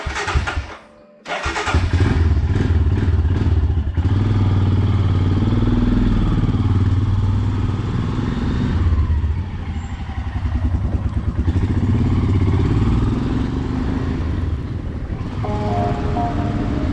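Several motorcycles starting up at the beginning of an off-road ride near Chikmagalur, then a steady loud engine drone as they ride off, with the mid-range rumble continuing throughout.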